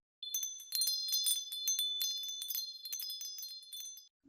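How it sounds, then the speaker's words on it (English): Bright, high bells jingle and ring in a quick, busy cluster of strikes, sustained for a few seconds before stopping abruptly. "the bells are sharp from the beginning till the end"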